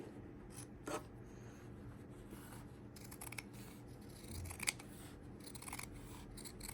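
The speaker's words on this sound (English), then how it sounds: "So then you take a scissor, okay, and then you cut." Scissors cut through jeans fabric for a hem, giving faint close snips and rasping blade scrapes over a low steady background hum, with no voices.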